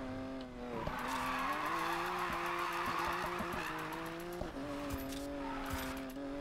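Tires squeal steadily as a car drifts in the video game Need for Speed Payback, a loud continuous screech with a sustained engine whine and brief dips, no talk.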